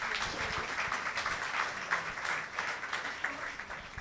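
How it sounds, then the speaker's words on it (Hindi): A church congregation gives steady applause for a sister during a New Year service, a dense patter of many hands clapping at moderate volume, continuing evenly throughout. "ताली बजाएंगे बहन के लिए।"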